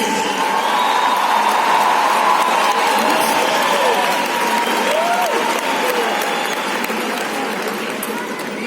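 Large audience at a business conference in Bogotá applauding loudly to welcome a singer and entrepreneur to the stage, steady sustained clapping filling the room with cheering voices underneath.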